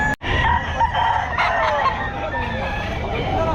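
Chickens crow and cluck at a Bocaue pet market selling grey gamefowl, the busy flock loud and close with overlapping calls throughout, background chatter mixed underneath.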